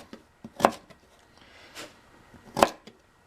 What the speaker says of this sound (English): you gotta cut this stuff off. It's no good. And you chop them into some smaller pieces